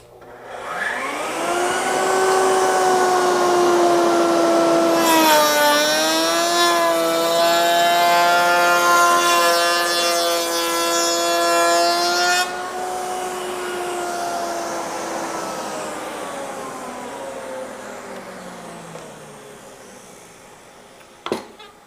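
Woodworking shaper with a bearing-guided cutter spins up to a loud steady whine and makes a light raised-panel cut in a crown-and-arch door. The tone lifts as the cutter loads, then the motor winds down alone.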